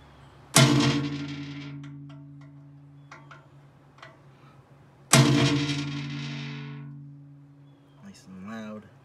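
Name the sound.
center punching metal for toothbar kit installation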